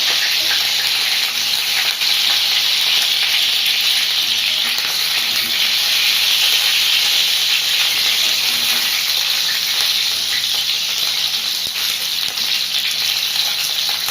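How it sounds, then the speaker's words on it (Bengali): Chicken fries in hot white oil in a wok, giving a dense, loud, unbroken hiss of sizzling that stays steady throughout, close up and without speech. "দিয়ে দেবো সাদা তেল মাংসটা ভাজার জন্য মানে চিকেনটা ভাজার জন্য তেলটা গরম হয়ে গেছে"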